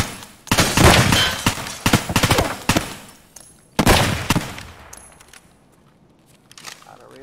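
Bursts of Colt M4A1 rifle fire in Escape from Tarkov, loud close rapid strings of shots in several volleys separated by pauses, with a quieter tail of scattered clicks and faint sounds afterward.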